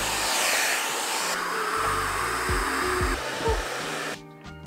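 Pattern hair blow dryer running on level 1 with the ionizer on, a close steady airy whoosh that shifts slightly in tone partway through and cuts off near the end.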